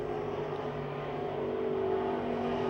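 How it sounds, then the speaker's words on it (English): Race cars roar at the Pennsylvania Motor Speedway in Pittsburgh, a steady, dense engine drone from several cars at mid distance holding throughout without a break. "Angelique now in the 14 car moves to the inside of Bidwell, and he'll make the pass for third"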